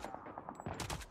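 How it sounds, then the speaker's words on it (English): Rapid automatic gunfire from Call of Duty Mobile crackles in a quick, evenly spaced burst of shots, fairly quiet and close, with no talking. "You gotta shoot lower. The bullets fly high."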